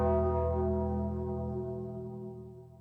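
A deep, ringing bell toll from the WWE Undertaker's entrance sounds once, loud and resonant. It decays slowly over about three seconds with no talk over it.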